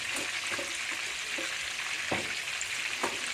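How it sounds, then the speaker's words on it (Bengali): Pieces of pangas fish frying in a pan, a steady hiss of hot oil with soft spatters and a few light scrapes of a utensil throughout, close and moderately loud. "এটা ভেজে নিচ্ছি"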